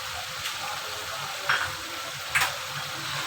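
Beef karhai being stirred with a spoon, giving a soft steady sizzle with two brief scraping clinks of the spoon against the pan, close and fairly quiet.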